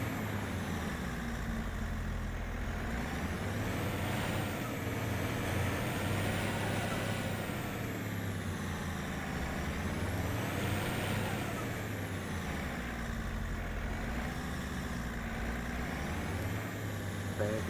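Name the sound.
tractor reversing to a trailer in video game Farming Simulator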